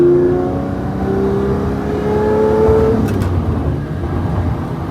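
Lamborghini Murcielago LP640 V12 with an aftermarket exhaust rising in steady engine tones that climb to a peak near three seconds, then settle into a rougher, throaty drone, continuous and close.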